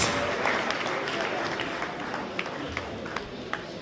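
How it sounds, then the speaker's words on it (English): A crowd in Freetown claps for teachers at a Teachers' Day celebration, a broad wash of applause that gradually thins, with a few distinct sharp claps near the end. "Clap with all your heart"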